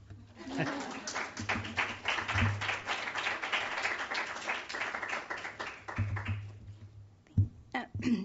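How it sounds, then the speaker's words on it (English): Audience clapping at an academic talk on exposure to peoples, culture and poverty, attended by faculty and administrators, sustained and fairly loud throughout, with brief voices and cheers near the end. "Yeah, clap."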